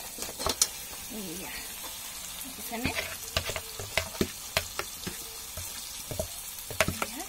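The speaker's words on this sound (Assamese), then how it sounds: "এতিয়া মাংসখিনি মই পুৰা ভাজিব লাগিব" Chicken meat fries with onions and spices, giving a steady close sizzle with frequent sharp clacks of stirring, and a brief spoken word partway through.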